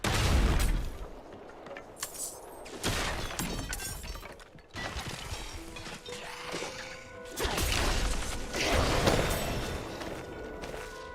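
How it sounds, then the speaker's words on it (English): A big explosion effect bursts out when a character levels up in a video game, a run of loud crashing, shattering booms that rise and fall over about eleven seconds. "The big explosion as you level up."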